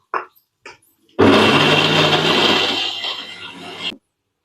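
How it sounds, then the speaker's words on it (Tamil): A mixer grinder grinding tomatoes roars up loud and close for about three seconds, a steady whirring churn that then cuts off, after a couple of short soft knocks before it starts. "தக்காளி நம்ம அரைச்சி எடுத்துக்கலாங்க"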